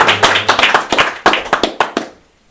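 Audience clapping after a poetry performance at a poetry battle, a short burst of close, fairly loud claps with a brisk uneven rhythm that thins out and stops, no voices.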